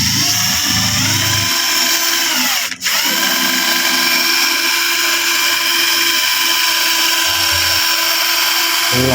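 An electric fan shaft spins while sandpaper is held against it, giving a loud steady high-pitched whirring grind with a constant tone, broken by one sharp click partway through.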